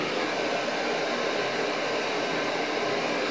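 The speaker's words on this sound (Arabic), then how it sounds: "هنيجي نجيب الاستشوار وهنشغله على السخن" A hair dryer blows on its hot setting to dry screen-printing emulsion on a silk screen, a steady, loud, broadband whoosh that runs unbroken with no voices.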